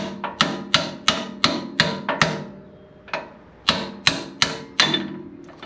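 Sharp metallic hammer blows ring out while a camber bushing is driven out on a 2008 Ford F-250, a close series of about fourteen strikes in two quick bursts separated by a short pause.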